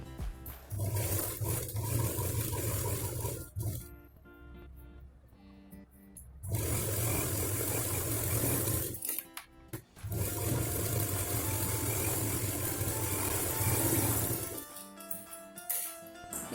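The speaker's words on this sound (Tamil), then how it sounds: "இங்கேருந்து இங்கே வரைக்கும் 2 தடவை ஸ்டிச்சஸ் போட்டு எடுத்துக்கலாம்" A sewing machine stitching a zip school pouch, a loud close whirring run of rapid stitching that stops twice for a few seconds, then resumes each time.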